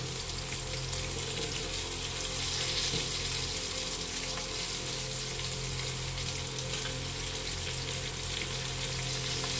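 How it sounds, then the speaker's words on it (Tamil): A clay pot of tamarind fish curry boils steadily on the stove, a dense, even bubbling and sizzling hiss that continues unbroken and without any voices. "5 நிமிஷம் நல்லா மீன் குழம்பு கொதிக்கணும்"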